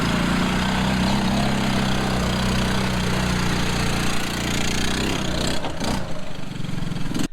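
Small 6.5 horsepower engine on a homemade two-wheel-drive quad truck UTV runs steadily with a loud, buzzy idle-like drone, then stumbles and cuts out briefly near the end.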